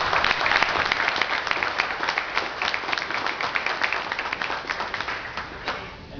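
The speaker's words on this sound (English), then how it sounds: "let's give him a round of applause" A room of people applauds at a law enforcement appreciation gathering, dense continuous clapping that starts strong and gradually thins and fades toward the end.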